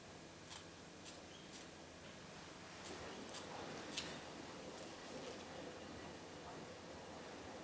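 Fabric scissors trim away excess shirting fabric for a quilt block, a series of soft, quick snips spaced irregularly over faint background hiss.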